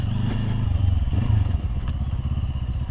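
A QJMotor SRT450RX dual-sport motorcycle ridden off-road thrums with a loud, close engine, its uneven pulsing throttle mixed with clattering and scraping from rough terrain.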